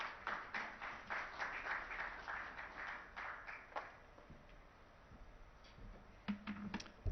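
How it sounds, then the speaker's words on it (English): Applause from a conference audience at an investor summit in a hotel ballroom, a steady wash of many hands clapping for several seconds before thinning out into scattered claps and room noise. "Can we have a round of applause, please?"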